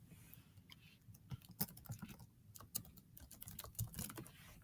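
Quiet, irregular clicking of fingers typing a comment on a computer keyboard, with bursts of rapid keystrokes and short pauses, close but soft with no talking.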